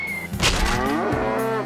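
Cattle lowing in a radio advertisement, a single drawn-out moo that rises and slowly falls, close and clear over a faint background.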